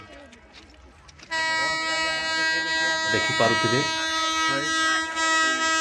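A train horn blares loudly and steadily from just over a second in, with rumbling rail noise underneath and a voice talking briefly at the start.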